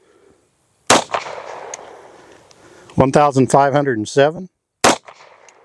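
A CZ-52 pistol fires over a chronograph, giving two sharp, loud single shots several seconds apart, each a short crack. Someone speaks between them.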